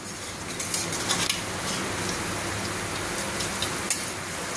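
Steady frying hiss fills the clip, with a few light clinks of a utensil against the pan scattered through it.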